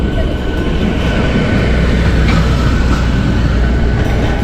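Train rumble at Podanur railway junction on the Kerala to Tamil Nadu line, a steady, loud, continuous low roar of moving rail cars with faint wheel clatter throughout, no talking.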